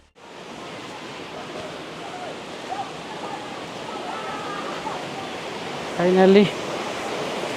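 Machha Kandana Waterfall in Mayurbhanj rushes as a steady, even roar of falling water. A voice speaks briefly and faintly over it near the end.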